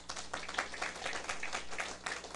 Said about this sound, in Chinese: 你甲伊拍手者